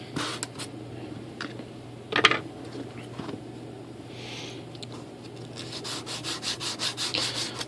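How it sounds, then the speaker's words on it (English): A sanding block rubbed against the edge of a 1.6 m foam model glider wing, close-up scraping strokes in uneven bursts, quickening into a rhythmic run of strokes toward the end. "These little sanding blocks work nice, or foam."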